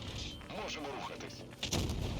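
A tank cannon shot with a ramming collision in World of Tanks Blitz, a 53TP battle: a rumbling game soundscape under a voice, then a loud low boom near the end.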